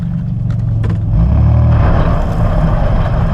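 Ford EF XR6 car straining up a dirt driveway, its engine droning loud and close with a heavy low rumble that swells midway and holds steady, no voices.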